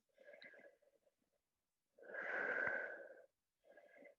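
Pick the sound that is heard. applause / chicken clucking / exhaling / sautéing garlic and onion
exhaling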